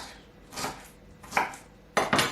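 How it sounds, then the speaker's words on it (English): Ginger is sliced with a knife on a kitchen surface for Ghana-style peanut soup, giving three separate close cutting knocks spaced about a second apart in an otherwise quiet room. "So just cut that up into nice little slices"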